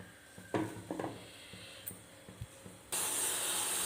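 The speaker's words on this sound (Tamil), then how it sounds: "இது நல்லா கொதிக்கிட்டுங்க." Tamarind water heats in a cooking pot for pepper soup: a few soft clinks and bubbling pops, then a sudden steady, loud hiss of boiling and steam that carries through to the end.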